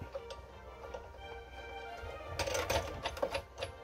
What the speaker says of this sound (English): I'll put it through the cutter. And this is a Sizzix Big Shot.